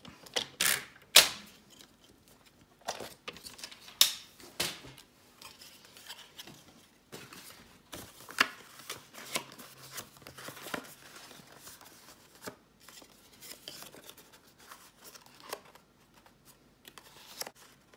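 Scissors trim excess origami paper while folding a glue-free origami box, giving a run of short, crisp snips and paper rustles, fairly close, with no talking.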